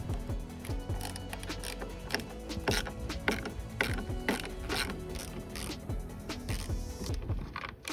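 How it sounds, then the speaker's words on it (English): A 10mm ratchet backs out the tail light bolts on a GR86/BRZ trunk, giving close, loud, rapid clicking that runs continuously with steady metallic ticks. "Now grab your 10mm and remove 3 of these bolts right here."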